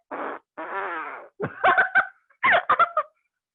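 A few short, sputtering fart noises, apparently imitated by a voice, come as a rapid burst of raspy pops after a couple of drawn-out voiced sounds, all close and clear in a quiet room.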